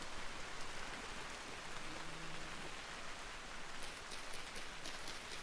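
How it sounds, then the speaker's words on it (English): Steady rain patters on leaves outdoors, a dense even hiss of drops that carries on without pause, with a brighter crackle of nearby drops joining in toward the end. "The noise of rain on leaves."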